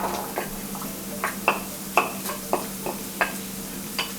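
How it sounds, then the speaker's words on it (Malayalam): Onion tipped into a pan of sizzling garlic, ginger and green chilli, with a steady low fry hiss and several sharp stirring clicks and scrapes spaced through it, close and moderately loud. "ഈ ഒരു സ്റ്റേജിൽ നമുക്ക് ഒണിയൻ ആഡ് ചെയ്യാം."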